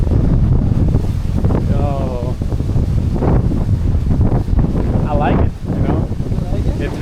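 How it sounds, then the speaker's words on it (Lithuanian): Strong, cold wind outdoors in Amsterdam, buffeting the microphone with loud, continuous rumbling gusts while people talk over it nearby. "Windy that it feels like cold."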